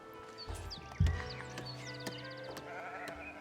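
Sheep on a farm in the video game Foundation bleat several times over a quiet ambient background, with a few soft thuds and chirps between the calls.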